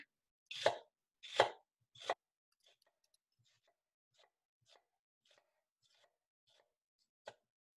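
A kitchen knife slices through an onion on a cutting board in three loud, close chops, followed by a series of faint, scattered taps and ticks.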